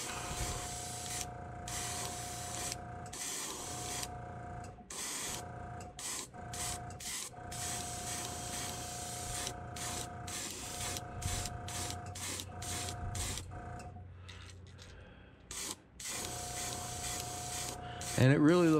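An airbrush sprays iridescent paint onto a blue-backed jerkbait fishing lure in short repeated bursts of airy hiss, broken by pauses, over a steady compressor hum, with a voice briefly at the end.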